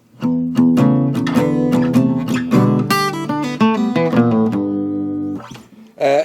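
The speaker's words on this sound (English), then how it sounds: "So if you're playing with a pick, you've got to dampen those strings," A guitar picked with muted, damped strings, playing a plucky, short-sustain melodic line with percussive attacks, close and fairly loud.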